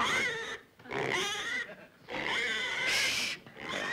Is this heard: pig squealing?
yes